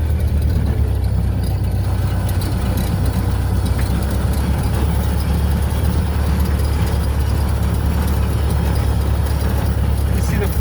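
The engine of a Model A rat rod runs steadily in a dense, low, continuous rumble, loud and close from start to finish with no pauses, heard as the car is driven.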